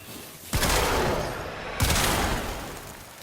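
Two heavy blasts from the Felarx shotgun in Warframe, each a loud, close boom with a long rolling tail, fired roughly a second apart with nothing else between them.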